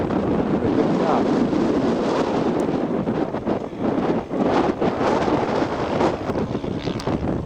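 Strong wind buffeting the microphone at an outdoor model aircraft show, a loud roaring rush that gusts and swells throughout, with a voice speaking beneath it.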